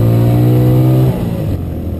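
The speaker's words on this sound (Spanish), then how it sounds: "Recorrido en motocicleta desde el kilómetro 25 hasta el kilómetro 29" A motorcycle on a mountain road between Cajamarca and Ibagué, its engine droning loudly and close with a steady tone that drops in pitch as it shifts or eases off, with no voices.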